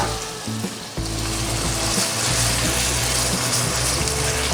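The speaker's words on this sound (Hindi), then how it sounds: "अब इसको हम फ्राई करेंगे ताकि कीमे की स्मेल ख़त्म हो जाए।" Beef keema frying in a pan gives a loud, close, continuous sizzle with bubbling crackle, jumping in intensity after a brief low rumble at the start.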